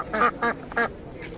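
Three loud, raspy Indian runner duck quacks in quick succession, close by, followed by a fainter fourth call, at an animal market.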